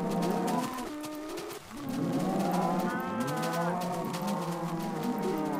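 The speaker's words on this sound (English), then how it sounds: "I can't even focus with all these gosh darn cows" Several cows in the Minecraft video game moo in overlapping, drawn-out calls, one after another, fairly close and continuous across the clip.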